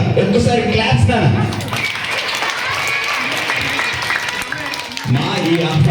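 Children at a school Sankranti celebration clap in a burst of applause that swells and then fades, with a voice talking over the start and end.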